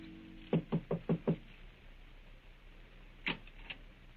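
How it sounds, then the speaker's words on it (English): Five quick, evenly spaced knocks on the door of a Paris house at night, loud and close, then a pause and a couple of fainter knocks or taps. "knocks at the door of number"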